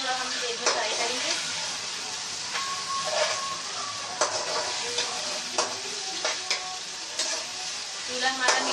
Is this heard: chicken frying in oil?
yes